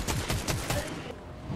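Rapid gunfire in the video game Fortnite, a burst of about six quick sharp shots in a steady rhythm, fairly loud, then fading into quieter game ambience.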